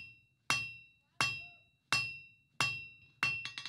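A hammer strikes hot steel on an anvil while drawing down a taper for a Viking longship rudder fitting. Five evenly spaced, ringing clanks sound up close, and a few quick lighter taps follow at the end.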